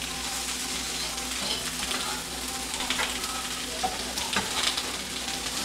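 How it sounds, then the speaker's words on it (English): Fresh spinach hits a hot pan and sizzles steadily while being stirred, a close, continuous frying hiss with small crackles and no talking. "So now we're gonna add some spinach."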